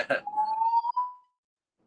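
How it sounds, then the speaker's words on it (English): A home fire alarm sounds a sustained high electronic tone lasting about a second, then returns briefly, following a short spoken word at the start. "I got the fire alarm going off in my place."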